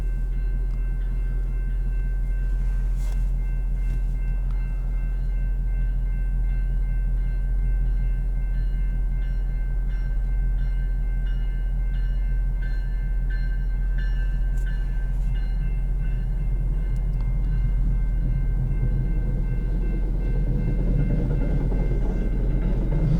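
A Boston T train rumbles past steadily and loudly for the whole stretch, with a deep continuous roar and metallic rail squeal, no voices.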